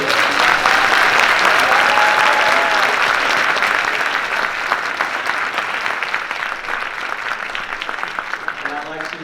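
An audience at a keynote event gives a sustained round of applause, dense steady clapping that gradually thins toward the end, with brief vocal tones heard early on.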